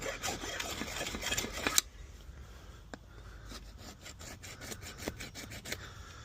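A small half round file rasps paint off the gaps between the centre and rim of a vintage tractor wheel, a steady scraping that starts loud and close, then turns quieter with short repeated strokes.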